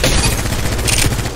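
Gunfire in the mobile battle royale game Apex Legends Mobile: a loud, dense, continuous rattle of rapid automatic shots filling the short moment, close and harsh.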